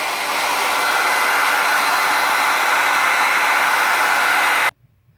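Hair dryer blowing steadily to dry fabric paint on a freezer paper stencil, a loud, even rushing whoosh that runs unbroken for several seconds and then cuts off abruptly.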